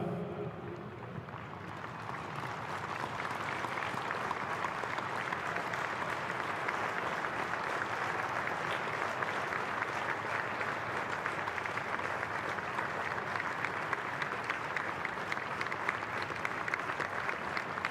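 Stadium crowd at an A-League football match, Western United against Sydney FC, applauding in memory of a former Socceroos coach, a broad steady roar of distant clapping that swells after the first couple of seconds and holds evenly.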